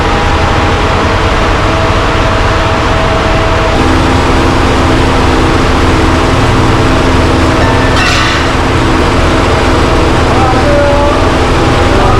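A car fitted with a large exhaust pipe drones with a loud, steady engine rumble that shifts slightly in pitch, near and continuous throughout.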